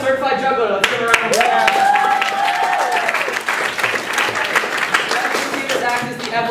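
A talent show audience bursts into loud applause and clapping for a juggler, with scattered sharp claps and voices and cheers rising through the crowd noise.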